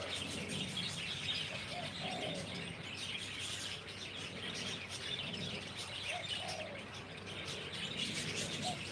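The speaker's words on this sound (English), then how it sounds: "That's exciting to see that little finch." Small finch chirps in short, repeated calls amid a steady outdoor ambience, the tweets fairly faint and intermittent across the whole stretch with no talking.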